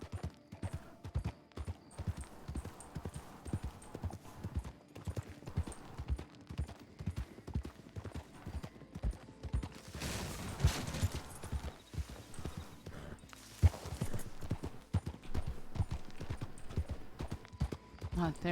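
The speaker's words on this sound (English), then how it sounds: "Hearing a horse galloping." Rhythmic hoofbeats of a horse galloping in the video game RedM clatter steadily throughout at moderate distance, with a few louder noisy bursts midway.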